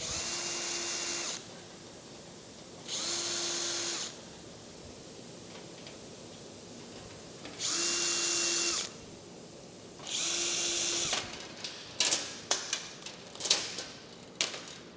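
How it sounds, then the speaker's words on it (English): A power drill runs in four short bursts with pauses between, drilling holes in metal over wood on a Case 1840 skid steer frame, over a steady background hiss, then a series of knocks and clicks. "So I drilled one hole with a regular drill bit."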